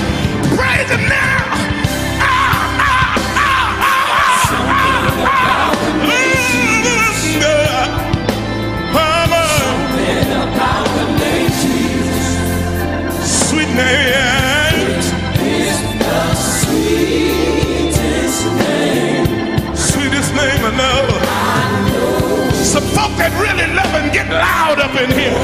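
A church congregation at a gospel service shouting and cheering loudly, with whoops and yells rising over driving music and a worship leader's voice, sustained and energetic throughout.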